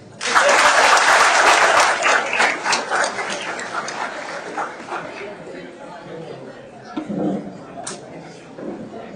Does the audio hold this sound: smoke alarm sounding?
no